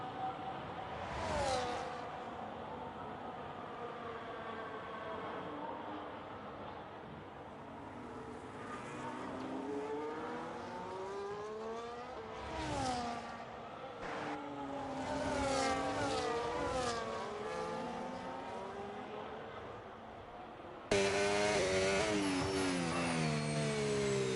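Race cars in the Re-Volt video game run a lap, their engine whine climbing and dropping steadily through corners and gear changes, with faint whooshes as they pass, growing louder near the end.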